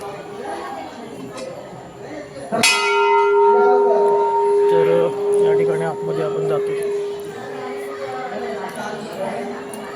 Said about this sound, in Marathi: या ठिकाणी घंटा घंटा वाजवूया आपण